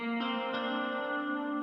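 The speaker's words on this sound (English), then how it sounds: "So right now I'm gonna add a lot of ambience to this sample." Music sample in a beat production soaked in reverb ambience: a sustained, layered harmonic tone with a few soft re-attacks, continuous and fairly loud, with no talking.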